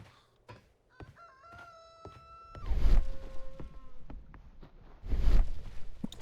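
In the video game Sherlock Holmes Crimes & Punishments, a rooster crows twice in loud, drawn-out calls, set against a quieter ambience with thin tonal game sounds at the start.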